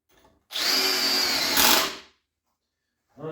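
A Parkside cordless brushless impact driver sinks an 8x140 screw in one continuous burst of about a second and a half, a loud rapid hammering whir that rises briefly before stopping abruptly, followed by quiet.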